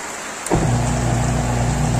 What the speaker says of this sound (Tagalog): inabot na nga po tayo ng ulan